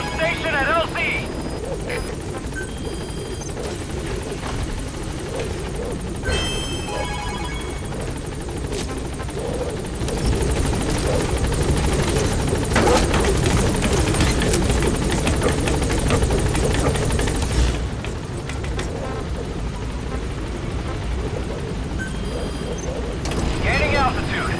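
A support helicopter in Metal Gear Solid V comes in to land and lifts off again, its rotor thumping steadily and loudly, swelling near the middle and fading at the end, while radio voices talk over it.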